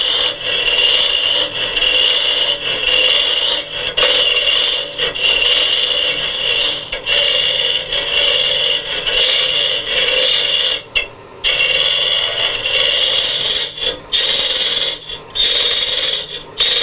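Gouge hollowing out an olive wood utensil holder on a lathe, a steady close rasping scrape running almost continuously with brief pauses as the tool is repositioned.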